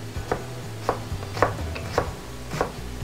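A knife chops through onion on a cutting board in about six distinct, evenly spaced knocks, close and crisp over quiet kitchen background with no talking.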